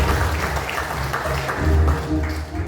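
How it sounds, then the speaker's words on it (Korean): An audience applauding at a Korean candidate-introduction event, a broad even spread of clapping with a faint low hum underneath, sustained for the whole stretch. "큰 박수로 격려해 주시기 바랍니다."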